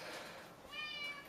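A short, high meow, most likely a person imitating a giant cat during a tabletop wargame, rising briefly over a noisy room.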